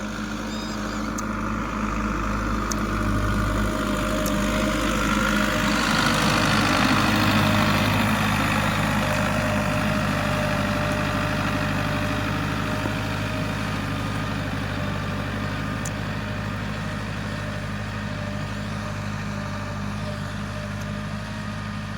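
A tractor engine idles steadily for the whole stretch, a continuous low, heavy rumble that swells slightly in the middle, with no voices.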